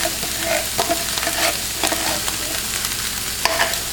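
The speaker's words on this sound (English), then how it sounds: "I'm going to try my best to mix it." Refried beans and beef being stirred in a frying pan for nachos supreme, a spoon scraping and mixing amid a constant close sizzle, with irregular scrapes over four seconds and no talk.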